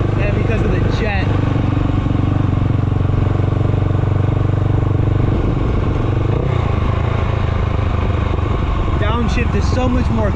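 Honda GB500 single-cylinder motorcycle engine running loud and close, a dense continuous throb with slight bucking and unevenness, and a voice talking over it.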